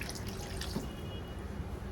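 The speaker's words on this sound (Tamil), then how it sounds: "இப்போ கரியானத்துக்கு தேவையான தண்ணி அளவு ஊற்றிக்கலாம்." Water trickles steadily and faintly into a pot of spicy mutton curry (kulambu), a soft, continuous pour with no talking.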